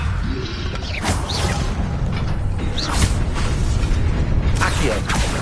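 A Levioso spell cast in Hogwarts Legacy on PS5, heard as a few whooshing, creaking magical bursts over a constant loud game background, with a voice speaking now and then.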